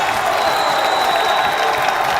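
A college basketball crowd roars and applauds during a timeout in a game between Yeshiva Macs and Saint Joseph Blue Jays. A loud, dense, steady wash of cheering fills the whole moment.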